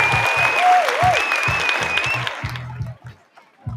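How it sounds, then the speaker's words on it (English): An audience claps through a short round of applause as a speaker talks over it, and the clapping fades away near the end. "I like to give this man a round of applause."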